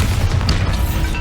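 The Bombarda blasting spell explodes in the video game Hogwarts Legacy with one loud, heavy boom whose rumble fills the whole moment and stays dense and low. No voices are heard.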